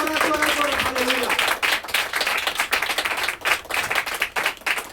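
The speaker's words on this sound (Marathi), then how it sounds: "एक जोरदार टाळी वाजवून आपण देवाला धन्यवाद करूया" Worshippers at a church service clapping loudly in rhythm, sharp repeated claps close by with a voice speaking over the start.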